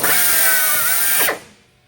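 Loud, steady whine of the two drill motors of an SC 350 machine running together to drill handle holes in door and drawer fronts, winding down abruptly near the end into quiet.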